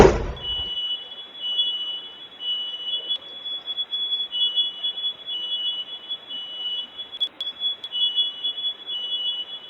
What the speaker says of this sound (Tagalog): agad na na-activate ang fire alarm sa bahay